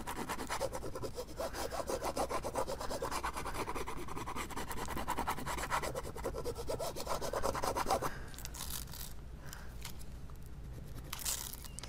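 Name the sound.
burnishing Cricut vinyl onto a canvas frame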